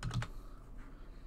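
A computer keyboard being typed on, a few quick close clicks at the start before the room falls quiet.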